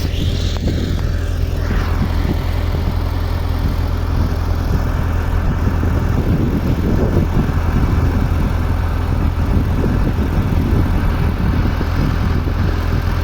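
A YuMZ tractor engine runs steadily nearby during hay mowing, a loud continuous droning rumble with no pauses.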